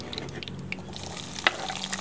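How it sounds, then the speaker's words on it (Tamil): Shallots fry in oil with mustard seeds, fenugreek and cumin, giving a short stretch of close, steady sizzling and crackle with one sharp click partway through. "முதல் இது 2ஐயுமே ஒரு 3/4 பதத்துக்கு வதக்கிட்டு"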